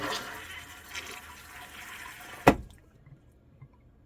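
A household toilet, repaired after clicking and popping during refill, runs water softly before a sharp, loud flush bursts out and quickly cuts off, leaving near silence with a couple of faint drips.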